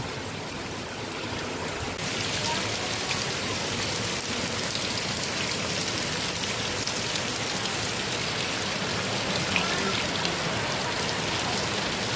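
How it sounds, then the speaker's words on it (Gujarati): Heavy rain pours down in a dense, steady roar of drops hitting surfaces. It grows louder and fuller after a couple of seconds and keeps drumming evenly with no voices. "વરસાદ ચાલુ થઈ ગયો"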